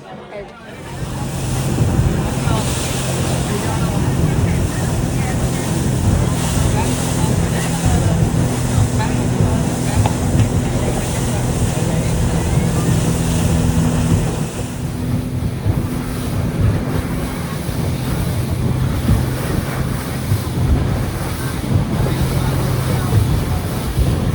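A speedboat crosses the open sea between islands off Phu Quoc, Vietnam, its engine droning steadily while waves and wind roar loudly across the microphone throughout, easing slightly partway through.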